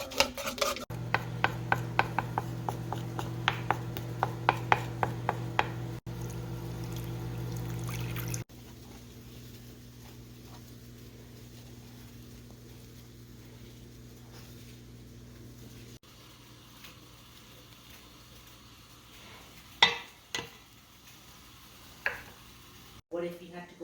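Sugar and a packet of dry yeast stirred into warm milk in a pot, off the heat, in a home kitchen while cooking Thanksgiving dinner: rhythmic close scraping and rubbing strokes for several seconds, then quieter intermittent clinks over a low background hum.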